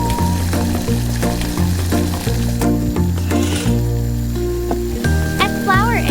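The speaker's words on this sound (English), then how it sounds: "Now we'll go to boil the ingredients. Boil for 15 minutes." Tiny-scale shrimp recipe ingredients cooking in a small pot, a steady close sizzle and bubbling under a looping, repetitive background melody.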